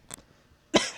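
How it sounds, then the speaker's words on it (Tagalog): A single short, close cough from a person indoors in Japan, preceded by a faint click in an otherwise quiet room. "My God, inuubo."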